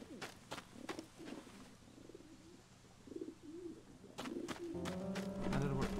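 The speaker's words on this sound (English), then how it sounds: "the bird is making sound, and it's kind of getting in the way of me detecting things" Bird cooing in the Fragile Dreams video game, soft repeated coos under game ambience with a few sharp clicks, and a faint voice in places.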